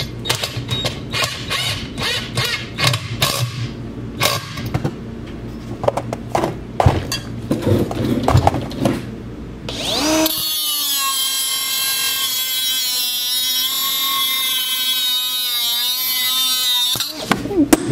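Power tool cutting off a bolt during a Predator 212 small engine build: after about ten seconds of scattered clanks and handling, a loud, steady high-pitched grinding cut runs continuously for roughly seven seconds, close up, then stops abruptly.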